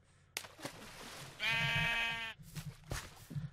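A sheep in Minecraft bleats in one long, wavering call, preceded and followed by shorter soft thumps and clicks of game activity.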